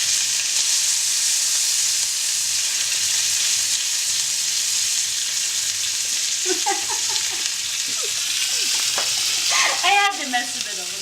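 Pork browns in a hot pan with a continuous bright sizzle and hiss, close and steady, broken near the end by a few scraping stirs of the meat.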